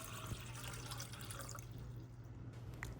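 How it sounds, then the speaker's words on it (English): Four cups of water run into a pot for spicy garlic butter ramen, giving a soft, continuous pouring trickle that stays faint and close throughout. "Adding 4 cups water"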